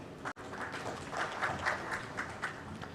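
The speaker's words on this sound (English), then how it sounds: "Can we have a round of applause for him, everybody?" A crowd applauds a speaker at a corporate launch event, the clapping broad and continuous at moderate volume apart from one very brief dropout near the start.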